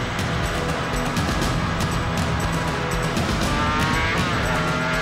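A motorbike races hard through town traffic at nearly 60 mph in a 30 zone, its loud, steady engine roar close and continuous, with some road and wind noise throughout.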